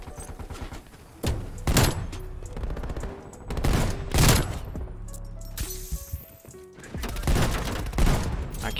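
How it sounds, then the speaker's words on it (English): Rapid bursts of hand cannon gunfire in Call of Duty Cold War, heavy loud volleys repeating in several clusters with booming low end, close and dominant. "Firing hand cannon."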